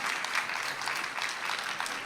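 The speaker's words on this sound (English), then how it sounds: "Can we get another round of applause for the Group 3 boys?" Audience applause at a Mother Easwaramma Day program, a lively burst of clapping from a crowd, fairly close and busy, with individual claps poking out of a continuous patter.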